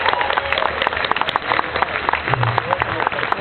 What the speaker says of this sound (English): give a round of applause to everybody who's here and for the organizers who helped to pull all of us here today